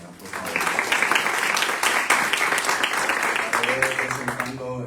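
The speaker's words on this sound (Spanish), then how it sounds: "un aplauso a las compañeras, por favor" An audience at an academic language and literature conference panel claps steadily for about four seconds before the applause fades and a voice begins speaking.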